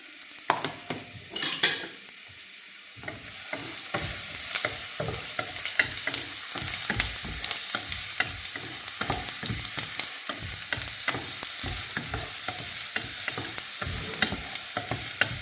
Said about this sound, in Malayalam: ആദ്യമേ നമുക്ക് ഇഞ്ചി ഒന്ന് മൂപ്പിച്ചെടുക്കാം.